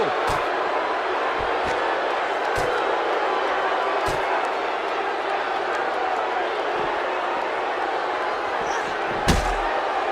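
A WWE 2K17 wrestling arena crowd gives a steady, dense roar. Sharp slams and impacts cut through it at intervals.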